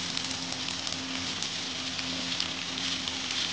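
Vegetables frying in hot oil with bay leaf, garam masala, ginger and garlic, onion, chilli, papaya and potato for a chicken stew: a steady, dense sizzle and crackle close by, continuous throughout with no talk.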